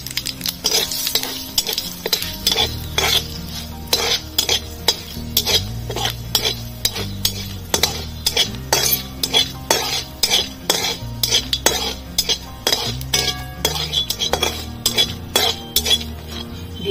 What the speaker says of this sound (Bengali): ফোড়নে দিয়ে দেবো দুটো শুকনো লঙ্কা, 5 ফোড়ন, নাড়াচাড়া করে নেব।